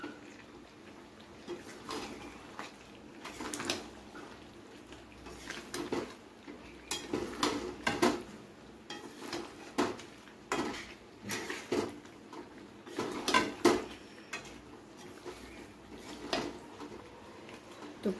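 A spatula stirs chicken kosha with garam masala in a pan, making repeated scraping and clinking strokes that come in uneven bursts at close range, with no talking.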